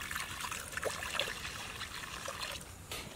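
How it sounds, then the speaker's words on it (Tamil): Fresh coriander and mint leaves are rinsed lightly in water, making a soft, close trickling and splashing that stays gentle and fairly faint throughout, with no talking. "கொத்தமல்லி புதினா லைட்டாக அலசி எடுத்து வச்சுக்கலாம்."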